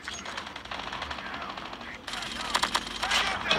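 Rapid automatic sniper rifle fire in the mobile shooter COD Mobile, quick bursts of gunshots that grow louder and sharper in the second half, with a voice talking over the shooting.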